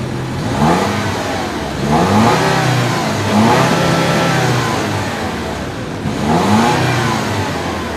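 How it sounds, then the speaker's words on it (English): A 2015 Lexus NX F Sport engine revs loudly and repeatedly, each rise and fall in pitch following close on the last, with a throaty exhaust tone and no talking. "It has a pretty good exhaust note too."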